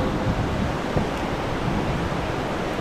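Strong river current rushes beneath a bridge at a fishing spot, a dense, continuous broadband roar of flowing water with no pauses, close and loud.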